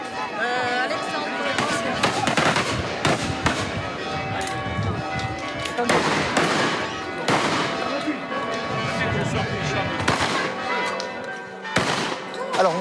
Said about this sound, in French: Alors on tire parce que c'est une tradition chez nous.